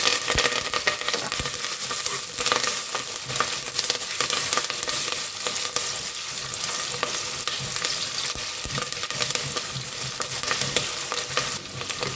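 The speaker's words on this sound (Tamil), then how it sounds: "ஒரு நாலு பச்சை மிளகா கட் பண்ணி வச்சுருக்கேன் அதை போட்டுறேன் இது கூடவே கொஞ்சம் கருவேப்பிலை போட்டுருவேன்" Onion, green chilies and curry leaves frying in hot oil, a loud, steady sizzle with stirring scrapes running throughout and no talk.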